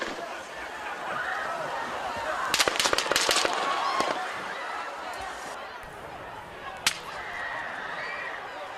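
A burst of several sharp gunshot cracks fires in quick succession, followed a few seconds later by one more, amid a busy crowd with voices, during an assassination attempt on a politician.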